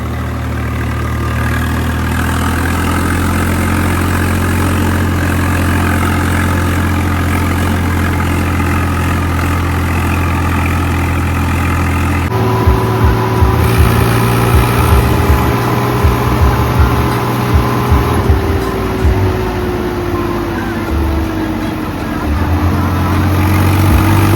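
An unmodified Swaraj 855 tractor engine idles steadily with a deep low rumble, then shifts to a rougher, throbbing run with a rising whine partway through; close and continuous.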